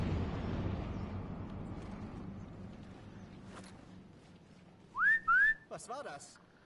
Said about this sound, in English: let's see if we can get the whistle right this time.